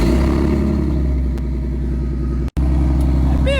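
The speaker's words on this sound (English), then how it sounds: "For a V6, I got like one of the coldest cold starts ever." A 2017 Ford Mustang V6 in black on a cold start gives a loud, steady, deep idle rumble close by, with a brief dropout near the end.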